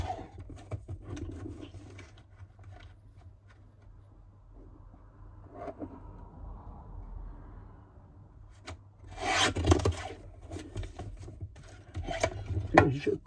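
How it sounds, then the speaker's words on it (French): Paper being cut to size for a handmade card: quiet scraping and rubbing strokes close up, with a louder burst of rasping cuts toward the end and faint handling noises between. "Donc là, je fais ma découpe."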